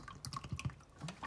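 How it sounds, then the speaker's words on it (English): A coffee maker draws water in from its reservoir, giving soft gurgling drips and liquid trickles in an irregular run, close and fairly quiet. "see what it's doing now is sucking water in from the reservoir"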